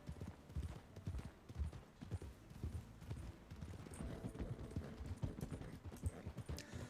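Horse hooves clip-clop at a steady walking pace in the Western roleplay game Red Dead, soft and fairly close with no talk over them.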